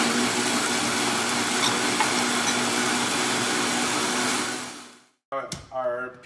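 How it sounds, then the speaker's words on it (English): A countertop blender purees vinegar and sugar for a blackberry shrub, giving a loud, steady, close whirring for about five seconds before cutting off, followed by a brief voice. "We'll give that a quick blend."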